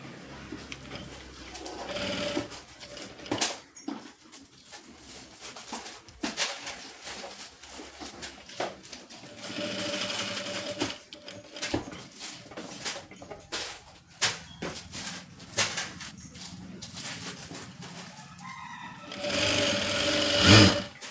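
Sewing machine stitching the back side of a blouse: bursts of rapid mechanical whirring broken by pauses and handling clicks, with pigeons cooing nearby, a faint voice and a louder stitching run at the end.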